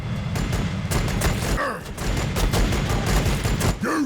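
Point-blank volley of gunfire from Sisters of Battle units in the Warhammer 40,000: Battlesector video game, a dense, continuous rattle of rapid shots with heavy low thumps and mechanical clatter, loud and close.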